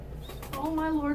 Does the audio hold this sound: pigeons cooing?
yes